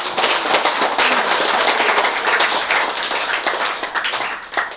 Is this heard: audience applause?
yes